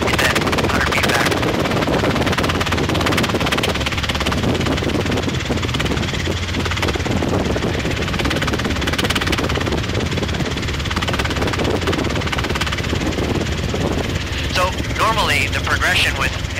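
Inside the cockpit of a Robinson R22 helicopter in flight, steady loud rotor and engine drone runs throughout, with voices talking over it.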